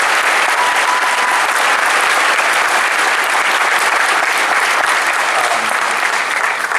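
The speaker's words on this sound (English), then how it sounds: "we should give a round of applause for the passing of George Romero" A large audience at a Call of Duty WWII Nazi Zombies cast panel gives a loud, sustained round of applause, dense clapping and crowd noise filling the full stretch without letup.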